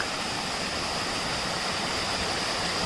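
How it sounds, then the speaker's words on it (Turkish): Gökdere waterfall in Konyaaltı, Antalya, pours in a steady, dense roar of rushing water that stays close and loud with no breaks. No voices are heard. "Şelalemiz bu şekilde."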